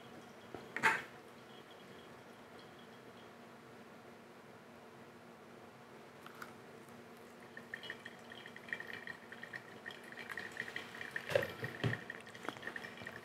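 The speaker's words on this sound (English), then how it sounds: "So just a really easy sort of pulse pouring." Coffee brews through a CAFEC Flower Dripper during pulse pouring, with faint quiet trickling and irregular small drips that build gradually toward the end, along with a couple of louder knocks or clinks.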